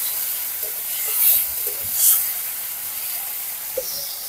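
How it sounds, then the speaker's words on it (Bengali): Spices and chopped tomato fry in a hot pan with black cumin seeds, giving a steady soft sizzle and hiss that swells twice, with no one speaking. "হালকা করে একটু ভেজে নেব।"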